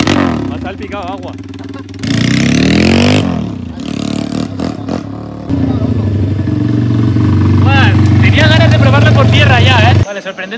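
A small pit bike engine revs up and down in loud bursts, the pitch rising and falling, with brief drops between revs.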